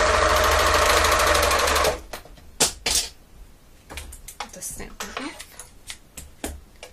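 A serger sewing machine with differential feed runs loud and fast as it stitches fabric for about two seconds, then stops, leaving scattered handling clicks and rustles.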